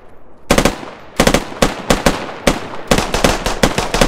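Close gunfire from a squad bounding drill: several bursts of loud, sharp rifle shots in irregular groups, then quicker single pistol shots near the end.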